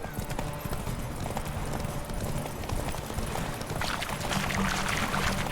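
Horse hooves gallop in The Witcher 3 video game, a fast rhythmic clip-clop of repeated hoofbeats, close and steady throughout, with ambient game sound and no talking.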